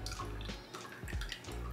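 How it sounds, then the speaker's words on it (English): Water poured over a potted parlor palm after sprinkling on fertilizer, trickling and dripping as it drains through the soil, steady and fairly quiet with no talking. "I'm just gonna like water over that"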